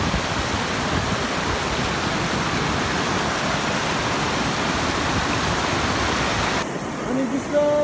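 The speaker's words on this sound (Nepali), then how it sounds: "यहाँ माथिबाट यस्तो पानी बगेर आउँछ, तल तर जान्छ" A waterfall near a power house in Pokhara gives off a steady, dense roar of rushing water, close and unbroken for most of the stretch before thinning near the end.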